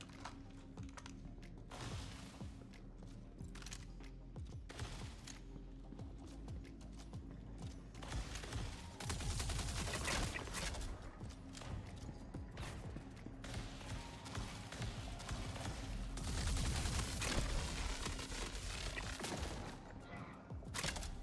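Rapid video game gunfire against bad guys, sustained bursts of shots running almost the whole time under a busy mix of game effects and clicks, with little talk.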